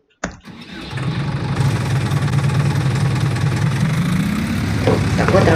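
A tractor engine in Farming Simulator 19 cranks over with a sharp start, then settles into a steady, loud, low rumbling idle.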